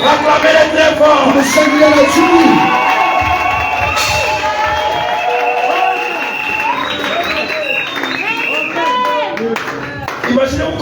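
A church congregation at a Sunday service cheers, claps and shouts loudly, a sustained roar of voices with rhythmic applause, whistles and high cries layered over one another.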